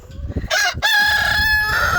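A rooster on a small farm crows loudly and close, a long drawn-out cock-a-doodle-doo that follows brief clucking from the surrounding chickens.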